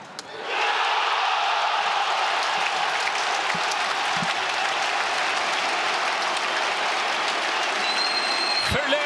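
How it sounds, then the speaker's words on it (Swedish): Football crowd at Friends Arena erupting after a converted penalty, a roaring wall of cheering and clapping that surges in abruptly and stays loud and dense, with scattered shouts and whistles rising above it. "Förlösande jubel på Fred."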